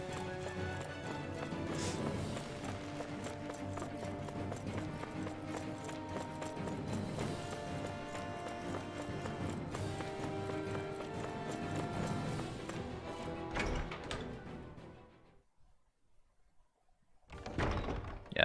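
A horse-drawn carriage in the video game Tales of Arise: steady, close clip-clop of hooves with rolling wheels, continuous for about fifteen seconds, then a brief quiet before a short burst of sound returns.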